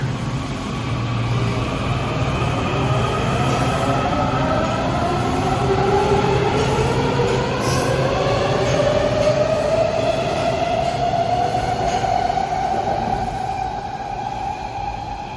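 A Washington Metro subway train runs close by: a steady loud rumble of wheels on rail with rising squealing tones as it accelerates, continuous throughout with no talking.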